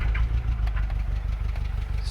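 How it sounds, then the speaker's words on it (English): Mitsubishi Conquest TSI turbo engine running rough just after starting from long storage, a steady low chugging idle with uneven pulsing close by. "I'm gonna show you what happens with this car when I go to start it."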